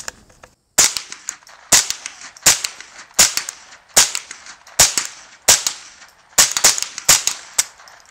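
Ruger 10/22 rifle firing about a dozen sharp, close shots at an outdoor range, spaced roughly every three-quarters of a second with some quicker doubles, each crack followed by a brief ringing decay.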